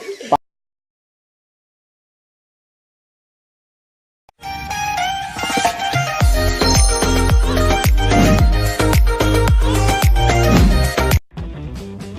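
A cellphone ringtone bursts in loudly after a few seconds of silence, playing a busy, bass-heavy melody that runs for several seconds before cutting off abruptly.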